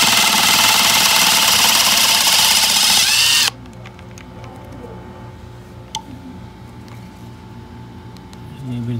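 A Makita DTS141 oil-pulse driver removing screws at level 1 whirs loudly and close for a few seconds, then stops, leaving a quiet room with a faint click.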